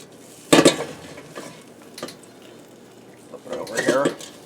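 A pork roast being turned over in a Cooks Essentials air fryer: a sharp clatter of metal and handling at the start, then a few softer knocks and scrapes, with a faint steady hum underneath.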